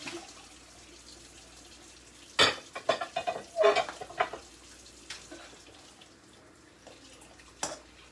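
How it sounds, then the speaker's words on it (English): Eggs stirred into rice frying in a pan, a soft sizzle broken by a cluster of scraping, clattering stirring strokes in the middle and one more near the end. "So we stir in our eggs."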